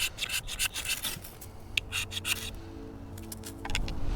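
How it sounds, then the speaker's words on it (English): A knife shaves thin curls from resin-rich fatwood outdoors in the woods, making close scraping strokes in short repeated bursts, followed by a softer, steadier rubbing. "Could try and make some thin shavings of this one."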